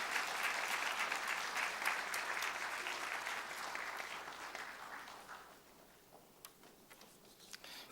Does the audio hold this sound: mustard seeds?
no